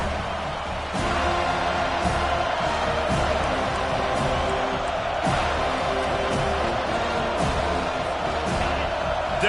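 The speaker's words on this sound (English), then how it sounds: "Decibels rising as the crowd gets behind this defense on third down." Football stadium crowd at a college game against UCF roaring steadily behind the defense on third down, a loud, sustained wall of cheering with occasional sharper bursts throughout.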